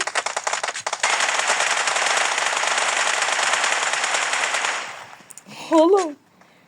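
Automatic rifle fire in PUBG Mobile: a long continuous close burst of rapid shots, loud and sustained, then a brief pause and a final short sound.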